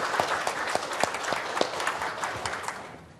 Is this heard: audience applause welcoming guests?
yes